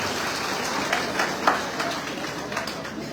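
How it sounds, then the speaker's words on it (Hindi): Crowd applause at a party workers' gathering at a political event in India, a broad steady patter of clapping with a few louder bursts, carrying on for a few seconds with no clear voice over it. "जोरदार तालियों से स्वागत चाहता हूँ आप लोगों का।"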